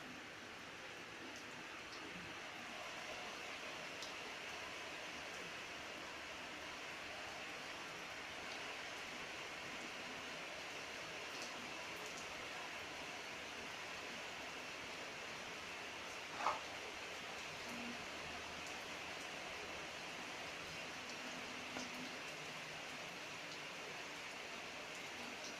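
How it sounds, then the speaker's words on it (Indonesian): Rain falls at night as a steady, even hiss throughout, with one brief faint knock partway through. "Ini hujan kayak gini."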